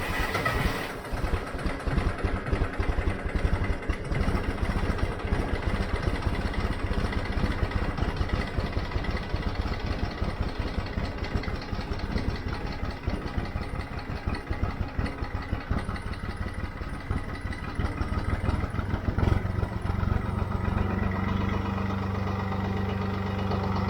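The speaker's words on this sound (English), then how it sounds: "The backbone of this farm, the John Deere 5055D." A John Deere 5055D farm tractor's diesel engine idles steadily and fairly close by in cold weather, a continuous low rumbling throb that holds even for the whole stretch, with a slight shift in tone near the end.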